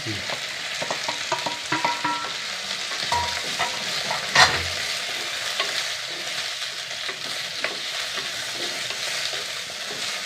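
Sliced onion sautés in a hot pan: a continuous close sizzle runs throughout, broken by scraping spatula strokes and one sharper knock partway through.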